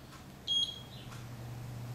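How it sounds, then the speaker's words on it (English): A Gymboss interval timer sounds a short, bright electronic beep alarm, a single brief tone burst standing alone over a quiet room hum. "The alarm will indicate timing has begun."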